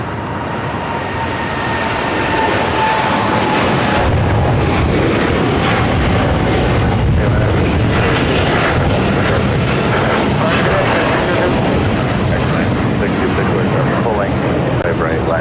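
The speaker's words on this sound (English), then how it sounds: "This is KLM Flight 602 taking off to Amsterdam on the 787-10 Dreamliner" A KLM Boeing 787-10 Dreamliner takes off at LAX, a loud, steady jet roar that swells over the first seconds and holds with a broad rumble, while someone talks over it.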